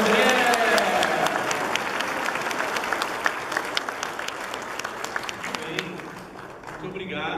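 A church congregation gives a warm round of applause for Padre André at a festive Sunday Mass; dense, close clapping rolls on steadily for several seconds and then thins out slightly at the end.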